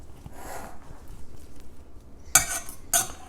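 Salmon patty ingredients being mixed in a medium-sized bowl: soft scraping and stirring, then two sharp utensil clinks against the bowl near the end, close by.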